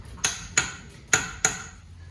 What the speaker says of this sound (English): Bust the lug nuts loose while the wheels still make contact with the ground.